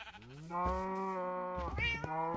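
A Minecraft cat gives two drawn-out, clear meows, one long rising-falling call followed by a shorter second one, close and alone.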